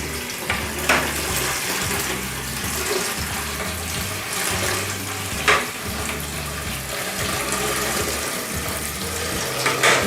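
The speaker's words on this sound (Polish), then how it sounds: "Tutaj mamy gorącą wodę i najlepiej się myję, bo wszystko ładnie schodzi, więc po prostu sobie napełniam, obmywam dookoła." Hot water runs from a tap, filling a container and splashing as it is rinsed around, a steady gushing stream with a few brief knocks and clatters, close and fairly loud.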